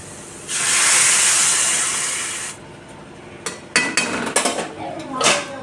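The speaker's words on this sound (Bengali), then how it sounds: "এবার গরম জল দিয়ে দেবো একটু" Hot water poured into a frying pan of fried potatoes and banana stem for a curry raises a loud, rushing steam hiss lasting about two seconds, followed by several sharp clinks and clatters of utensils.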